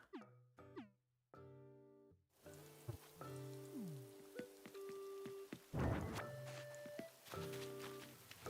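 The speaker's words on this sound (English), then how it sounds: "Can't believe it's still raining." Rain falling on a surface, a faint, quiet patter that runs under clear tonal sounds and occasional dull thunks.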